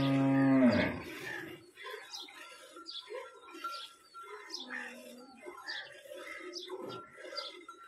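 A Cholistani Friesian cross cow gives one loud, close moo, followed by birds chirping and faint voices in the background.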